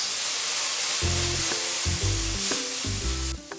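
Garlic and onion sauté in a pan for a lechon paksiw, giving a dense continuous sizzle, with a few pitched tones or clinks layered over it before it cuts off near the end.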